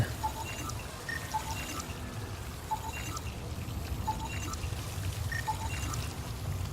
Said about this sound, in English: They just literally flushed all the stasis pods down the toilet.